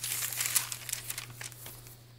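Old book pages in a hardcover bird-themed junk journal with glassine and paper layers rustle and crinkle as they are flipped, a steady papery crackle with quick flicks, close and quiet over a low hum.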